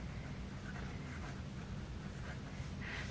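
A broad-nib Sailor Pro Gear Slim fountain pen scratches continuously across paper with audible feedback, a soft, steady, close scraping without any voices.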